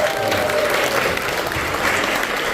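An audience at a Yonsei University CEO open forum gives a lecturing professor a dense, continuous round of applause that stays loud throughout.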